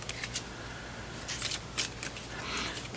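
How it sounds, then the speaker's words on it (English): A deck of cards for the Cthulhu deck-building game is shuffled by hand, giving faint, soft riffling and flicking bursts in a quiet room with no talking. "I have to shuffle and draw 5."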